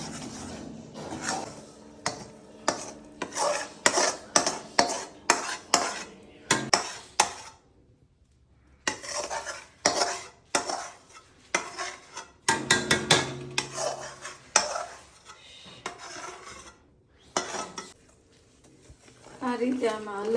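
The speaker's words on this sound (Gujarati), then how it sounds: "આ રીતે આમાં હલાવતું રહેવાનું એટલે બધામાં ગોળ મિક્સ થઈ જાય આપણો" A spoon stirs melted jaggery into adadiya mix in a pan, giving repeated close scraping strokes and metallic clinks in uneven bursts separated by short pauses, with speech in between.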